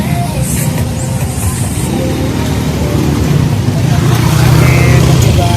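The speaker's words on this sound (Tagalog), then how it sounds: "daming sasakyan medyo mabagal ang takbo ng traffic oh." Slow-moving holiday road traffic with many vehicles near a parish church, a steady close engine rumble and road noise running throughout, with people talking over it.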